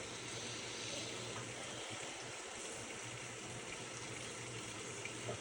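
Apartment washing machine filling with water, a steady, faint rushing hiss of flowing water with a low constant hum underneath, unbroken for the whole stretch.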